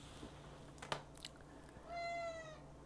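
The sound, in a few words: cat meowing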